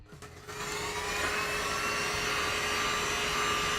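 A heat gun or hair dryer blowing hot air to work a vinyl skin over the edges of a Juul vape, a steady close whooshing whine that ramps up in the first half second and then holds evenly.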